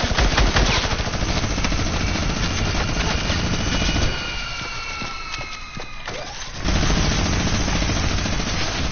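Minigun fire in the video game Fortnite roars as a dense, continuous rattling stream. It is loud and sustained, dips briefly midway, then resumes at full strength.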